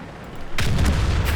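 A tank gun firing on the Murovanka map in World of Tanks, a single loud booming shot that cuts in suddenly after a quieter stretch and rolls on with a heavy low rumble.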